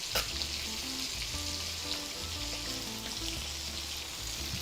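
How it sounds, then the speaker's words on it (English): Steady crackling sizzle of shrimp frying in a hot pan, continuous and close, with some low clinking or stirring underneath. "I always wanna hear it sizzle when it hits the pan"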